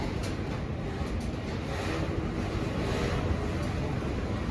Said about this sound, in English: They say the wind blows in South Dakota.